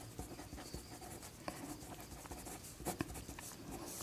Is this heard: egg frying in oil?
no